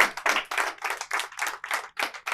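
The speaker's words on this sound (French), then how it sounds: "On va l'applaudir" Studio audience clapping for a guest on a French-language Saturday TV show, a brisk burst of many hands in short rhythmic waves, close and lively, with no talking over it.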